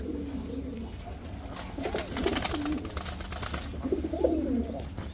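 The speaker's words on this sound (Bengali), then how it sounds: "এখানে দেখতে পাচ্ছেন 2 জোড়া গোল্লা কবুতর, দেশি গোল্লা" Two pairs of domestic Golla pigeons, also known as Rajgolla, coo at a pigeon farm: soft, low, repeated throaty coos rising and falling over a steady background hum, with no talking.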